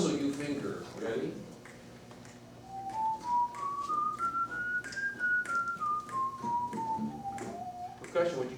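Someone whistles a steady scale to tune a school symphonic band, climbing note by note to a peak and then stepping back down, with voices and light tapping in the background.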